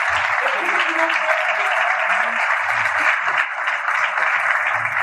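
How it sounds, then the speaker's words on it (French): Audience applause at a BTA 2022 event in Versailles, a dense, steady clatter of clapping hands filling the whole stretch at even loudness, with low murmuring voices faintly underneath. "applaudissez pour ça."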